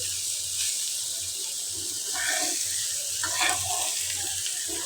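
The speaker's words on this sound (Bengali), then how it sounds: "কি পরিমাণে ভাজা ভাজা করছে আর কতটাই না সময় লাগছে" Vegetable bhaji frying in a pan, a steady close sizzle with soft stirring noises.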